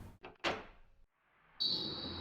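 A door handle clicks and turns and a door swings open in the video game Saya no Uta, quiet, brief knocks and a scrape followed by a steady high-pitched tone.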